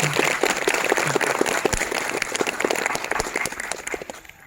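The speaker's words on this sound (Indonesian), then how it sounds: "Tepuk tangan buat kiai kita ini." An audience applauds a kiai at a Hari Santri Nasional 2021 ceremony of MWC NU Cipaku, steady dense clapping from many hands that carries on throughout and thins slightly toward the end.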